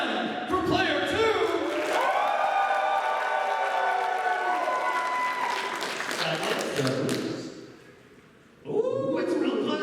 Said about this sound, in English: let's hear your applause for player 1!